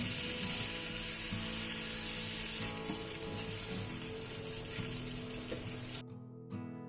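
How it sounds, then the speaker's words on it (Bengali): Puli pitha dumplings fry with crushed green chili and salt in hot oil, a steady close sizzle and crackle with faint stirring scrapes that cuts off abruptly near the end. "আমাদের বাড়িতে পুলিগুলোকে যেমন ভাজা হয় তেমন করে আমিও ভেজে নিচ্ছি"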